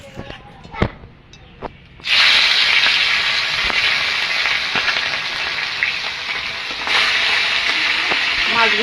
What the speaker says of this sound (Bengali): মাছগুলো আমি উল্টে পাল্টে ভেজে নেব।